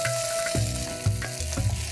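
Peanuts dry-roasting in a wok, with a close sizzling hiss and sharp clacks and scrapes as they are stirred and tossed in a few quick bursts, with no voices.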